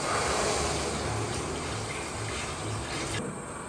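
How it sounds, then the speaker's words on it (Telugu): Water gushing steadily into a large vessel of sago for homemade vadiyalu, a continuous close, full pouring rush that dips slightly at the end. "వాటర్ యాడ్ చేసుకుందాం."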